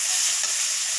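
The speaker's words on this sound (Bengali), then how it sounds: "মটরগুলো দিয়ে ভালো করে আবার নেড়ে চেড়ে নিচ্ছি।" Chickpeas and peas frying with spices in a pan for ghugni, giving a close, continuous bright sizzle with soft stirring under it for one second.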